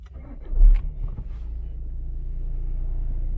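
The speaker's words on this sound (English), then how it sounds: "right now let's start the engine and let's check if it worked" A VW Golf MK7 (5G) engine cranks and catches with a short loud burst, then settles into a steady low idle rumble that continues to the end.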